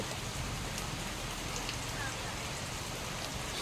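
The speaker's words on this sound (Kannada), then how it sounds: "ಸ್ಟಾಪ್ ಆಗಲಿಲ್ಲ ಮಳೆ ಬರ್ತಾನೆ ಇದೆ" Steady, dense hiss of heavy rain falling, constant and enveloping with no pauses, close and fairly loud.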